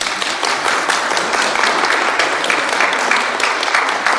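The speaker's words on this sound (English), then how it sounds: "Shall we give these incredible temptation resistors a round of applause?" Church congregation at St John the Baptist, Ermine, Lincoln, giving a warm, steady round of applause that fills the hall, dense clapping holding even for several seconds.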